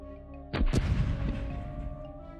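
A bomb explodes in the video game Airoheart, a sudden sharp double blast with a deep boom that rolls and fades over about a second, alone over a quiet musical background.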